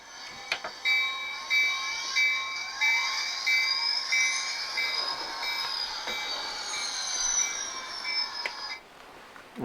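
A Bachmann N scale DCC model train set runs in reverse along its track, with a steady whirring motor and metallic wheel squeal sustained close by for several seconds, without talk.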